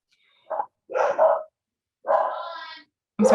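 A dog barks in short bursts during an online city commission meeting, with a few separate yelps and a longer drawn-out bark, fairly close and clear, with no talk over it.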